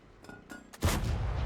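A tank cannon fires in the World of Tanks video game, a single loud booming shot that follows a few quieter mechanical clicks and thuds.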